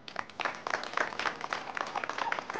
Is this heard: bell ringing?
no